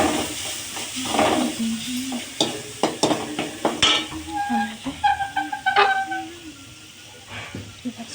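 Spices being stirred into hot oil in a pan for a spicy okra stir-fry, with a soft sizzle under repeated spatula scrapes and clinks, while someone talks over it throughout.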